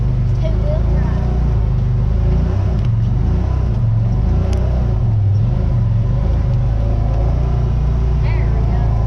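A truck engine revs hard as it pushes through mud in two-wheel drive, a loud, steady rumbling drone that runs the whole time with people talking over it.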